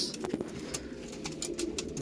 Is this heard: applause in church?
no